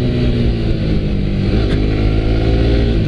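Suzuki GSX-S125 motorcycle engine accelerating under a rider, a steady mid-pitched drone with rising harmonics, close and continuous with no talk.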